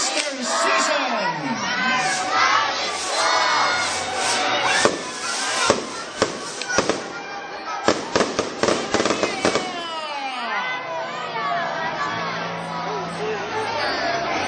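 An Easter fireworks display over a cheering crowd, sharp firecracker bangs and crackling bursts rattling rapidly through the middle, with shouting and excited voices throughout and whistling rockets rising and falling.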